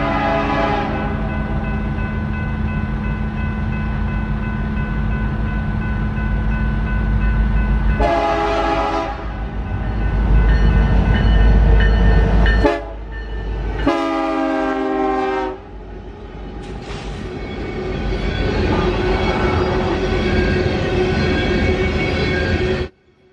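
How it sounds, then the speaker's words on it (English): A westbound BNSF coal train of loaded PPEX gondolas led by a pair of big EMD locomotives rumbles past loudly and steadily, with several long blasts of the horn sounding midway through the pass. "another pair of big EMDs hustled loaded PPEX coal gondolas west"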